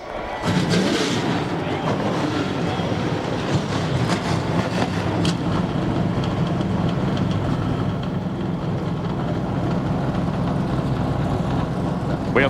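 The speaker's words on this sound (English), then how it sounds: "Drivers, start your engines." Stock car engines fire up and roar together at Daytona International Speedway for the 2005 NASCAR Busch Series race, a dense, steady, loud rumble filling the whole stretch with crowd noise mixed in.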